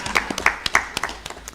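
Audience clapping at a counselling association AGM: scattered, separate hand claps from a small group, uneven and close, with a brief voice sounding partway through.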